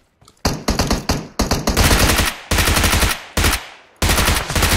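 Loud bursts of automatic gunfire in the mobile game PUBG Mobile, several rapid volleys separated by short pauses and heard up close, with no talking.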